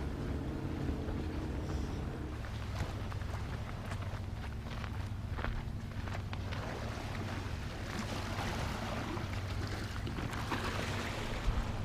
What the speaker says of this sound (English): they wouldn't hear you over these boats